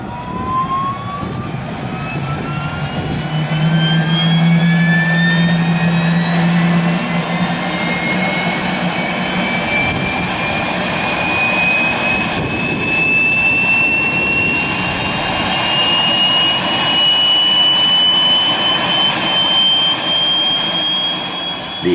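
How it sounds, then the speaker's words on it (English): The engines of a Lockheed Hercules L100-30 turboprop aircraft roar loudly and continuously nearby, with high whining tones steadily rising in pitch as they spool up, alongside a low rumble. "The airplane you are going to board in a moment is a Lockheed Hercules L100-30, which is the longest ever stretch of a Lockheed Hercules."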